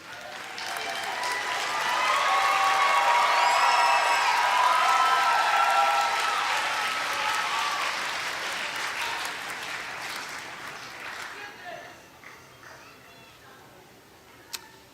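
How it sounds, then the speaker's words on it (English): A large audience at a nursing college graduation in Louisville bursts into sustained applause mixed with whoops and cheers, swelling loud and then slowly thinning to scattered claps. "give them an applause for their support, love, and confidence in your nursing journey"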